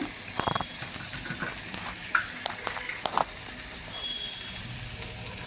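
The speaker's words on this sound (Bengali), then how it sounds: "পেঁয়াজটা কিন্তু খুব বেশি লাল করে ভাজবো না, হালকা গোলাপি রং ধরা পর্যন্ত একটু ভেজে নেব" Onion frying in a pan until it turns light pink, with a steady, close, even sizzle and hiss carrying on throughout, broken by faint scattered pops and crackles.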